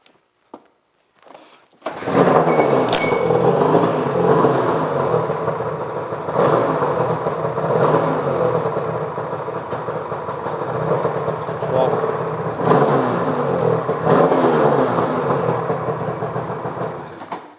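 A Ski-Doo Rev 827 snowmobile engine starts and runs steadily for about fifteen seconds, turning the track during a secondary clutch and belt check. The engine drone is loud and close, with slight swells in pitch.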